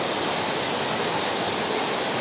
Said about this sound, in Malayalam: വെള്ളച്ചാട്ടം കണ്ടോ.